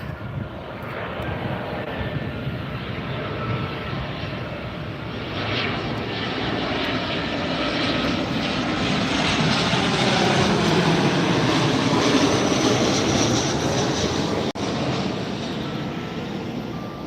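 A Southwest Airlines jet arrives at Tampa airport, its loud engine roar rising steadily and holding for many seconds, broadband and continuous with no voices over it.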